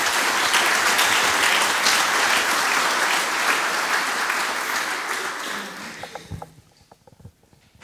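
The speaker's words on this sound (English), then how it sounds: "So give an applause to NetLogix" A conference audience claps for a sponsor at a live event, dense sustained applause that stays loud for several seconds, then tapers off into a few scattered claps and quiet room noise.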